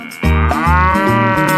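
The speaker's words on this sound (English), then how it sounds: "Moo, moo, said the cows on his farm." Farm cows lowing in a quick run of close, loud, drawn-out moos, one after another with no pause between them.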